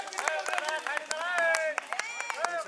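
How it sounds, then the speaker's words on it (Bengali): Village children clapping in a red-versus-yellow team game: bursts of quick, scattered hand claps mixed with loud shouting and chanting voices nearby, rhythmic and lively throughout. "দাঁড়িয়ে হাততালি রে"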